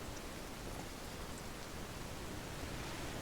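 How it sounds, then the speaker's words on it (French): Steady rain in the pirate video game Sea of Thieves, a faint, even hiss of falling drops that continues unbroken and without talk. "il pleut."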